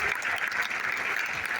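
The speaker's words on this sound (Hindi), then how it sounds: "एक बार जोरदार तालियां हो जाए अपने ट्रेनिंग प्लेटफॉर्म के लिए" Audience in a banquet hall at a training seminar in Thane bursts into loud, sustained clapping that fills the whole moment without a break.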